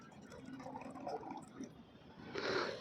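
Liquid fertilizer, 250 ml, is strained into a litre of water, giving a soft trickling pour with light drips that ends in a brighter splashing fill.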